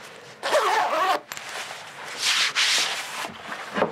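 Zipper on a heated vest being worked in short rasping pulls, a couple of scratchy bursts separated by fabric rustle, close and fairly loud with no talking.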